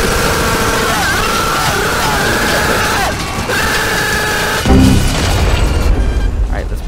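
Bombs blow up in the video game Fortnite with a loud, heavy boom that rises out of a dense, continuous bed of game noise.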